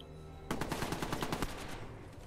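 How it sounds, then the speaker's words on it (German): A rapid burst of automatic gunfire in the Watch Dogs video game, about a second of evenly spaced loud shots that stops abruptly and leaves a ringing tail. "hör auf zu schießen da oben, Mann"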